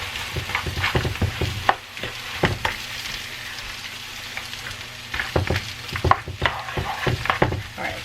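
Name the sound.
eggs being stirred and scrambled sizzling in a pan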